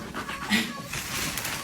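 A dog pants close by in quick, breathy bursts, with a faint whimpering note.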